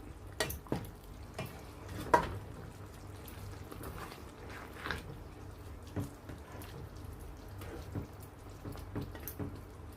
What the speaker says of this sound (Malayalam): അത് നമുക്ക് ഇളക്കി കൊടുക്കാം.